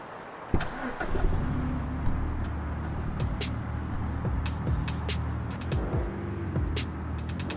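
A van engine in the Vice Online RP game cranks and catches near 0.5 seconds, then settles into a steady close idle with a few sharp clicks and knocks over it, and no talk.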